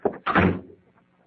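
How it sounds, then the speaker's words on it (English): A door is shut in a dramatic radio mystery scene, giving one firm thunk with a short ringing tail, close by and alone, after a brief shuffle. "I said shut the door."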